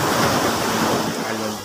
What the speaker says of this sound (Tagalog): Medyo lumalakas na yung alon